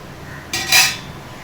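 A lid set down on a pot of chicken biryani gives a brief metallic clink followed by a slightly louder clatter, both close and alone in the kitchen with no voices around it.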